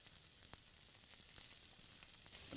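Onions and garlic sizzle steadily in oil in a skillet, a continuous close hiss with a few soft stirring clicks and no voices.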